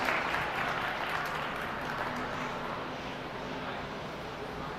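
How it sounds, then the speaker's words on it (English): Audience claps for an exhibitor at a county youth goat show. The applause is a dense, steady patter from a crowd and fades slightly over several seconds. "Please give this exhibitor a big round of applause here with a very nice single entry in this class"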